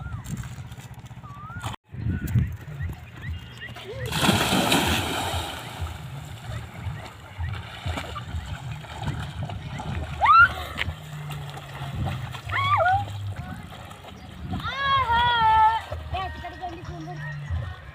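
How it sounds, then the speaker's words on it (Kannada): People jump into Dummawada lake, one heavy splash bursting out near the middle among excited voices and background chatter, with smaller sloshes of water afterward. "ನಾವು ಈಗ ನೀರಲ್ಲಿ ಜಿಗಿತಾ ಇದ್ದೀವಿ"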